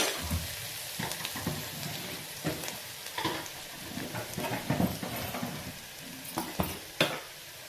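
Sliced onions fry with turmeric in a pan for an ivy gourd curry: a continuous sizzle broken by repeated scraping stirs of a spatula against the metal, close up with no talking.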